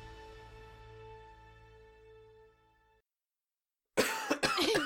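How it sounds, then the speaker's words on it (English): A man coughs: a sharp, close burst near the end that follows a steady hum and a second of near silence, with a quick second rasp right after. "I'm just going to cough it out"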